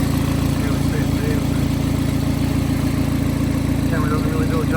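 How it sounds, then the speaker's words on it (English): A Hyundai Getz engine idles with a noticeable vibration, a steady close low rumble with a fast even pulse that holds constant throughout. "There's a bit of a vibration to the engine."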